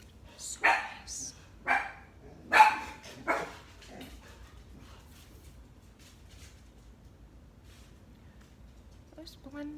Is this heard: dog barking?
yes